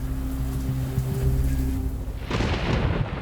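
A lightning strike during a storm in Brazil brings loud rumbling thunder close by, then a sudden crackling burst into a steady hiss of heavy rain.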